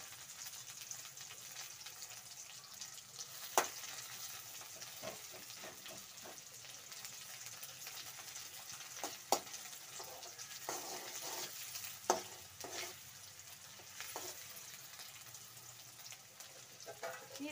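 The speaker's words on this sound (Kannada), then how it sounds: "ಈರುಳ್ಳಿ ಎಲ್ಲ ಚೆನ್ನಾಗಿ ಫ್ರೈ ಆಗಬೇಕು." Chopped onions frying in a pan for capsicum chili, a faint, continuous sizzle with occasional soft clicks and taps of stirring, quiet and steady throughout with no talking.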